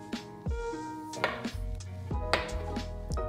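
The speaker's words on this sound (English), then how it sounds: "now we're just gonna divide our dough" A blade chops through gluten-free hamburger bun dough on a board, producing several firm, distinct knocks spaced a second or so apart. The sounds are close but quiet, with a faint hum underneath and no speech.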